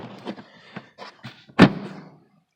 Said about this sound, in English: these drawers are a little bit on the tough side to get them in and out